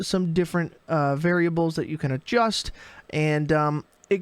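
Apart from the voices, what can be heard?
No everyday noise stands out behind the speech.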